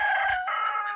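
A rooster on a smallholding gives a short, loud crow, a single bright call lasting about a second, close by and alone.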